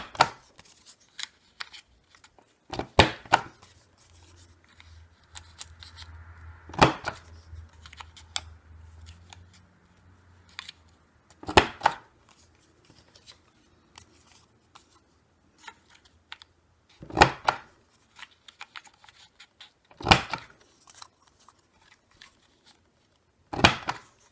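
Scissors snip the corners of ribbon strips round, giving several sharp, isolated cuts spaced a few seconds apart in a quiet room with faint handling rustle between them.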